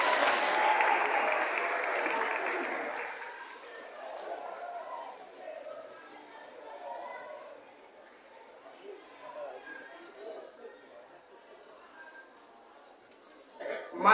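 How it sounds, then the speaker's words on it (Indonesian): Audience applause at a youth forum, a burst of clapping that fades quickly within a few seconds into scattered murmurs, coughs and room noise. "Tepuk tangan untuk kita semua."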